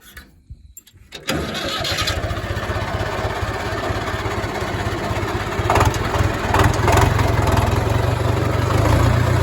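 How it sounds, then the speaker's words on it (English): An old David Brown tractor fitted with a loud cherry bomb muffler cranks over after a brief quiet moment, then catches and settles into a close, throaty idle that grows louder and rougher toward the end. "Pretty sure this is like an old cherry bomb muffler. That's why it's so loud."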